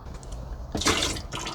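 Water runs into a garden sprayer tank, a soft steady trickle that swells into a louder rushing gush near the middle and again toward the end, close by with no talking.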